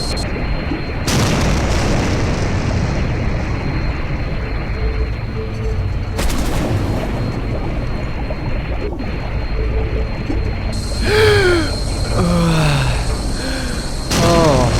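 Explosions in the survival game Stranded Deep: deep booming blasts with broadband rumble, one starting near the second second and another around six seconds, over constant ocean-like noise, followed by tonal chirping game sounds near the end.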